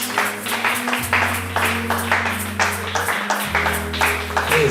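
A church congregation applauds during a divine healing service, rhythmic clapping in regular pulses over sustained organ or keyboard chords, with voices mixed in.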